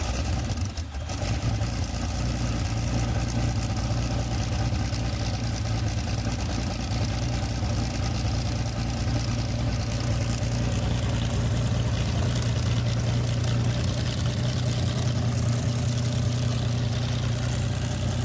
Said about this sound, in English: The Allison V1710 V12 engine was a liquid-cooled aircraft power plant developed in the United States during the late 1930s